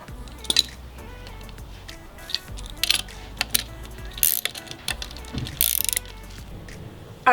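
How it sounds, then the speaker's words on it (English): Torque wrench tightening a coilover nut to 15 foot-pounds on a BRZ/FRS/86 during a Racecomp Engineering SuperStreet 1 install, a series of close metallic ratcheting clicks in short irregular bursts with clinks between. "we're going to torque that down to 15 foot-pounds"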